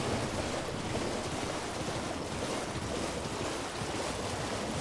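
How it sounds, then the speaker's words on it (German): Waterfall in the video game Elden Ring: Shadow of the Erdtree, a steady dense roar of rushing water that stays constant and fairly loud throughout, with no voices. "Da ist der nächste Wasserfall."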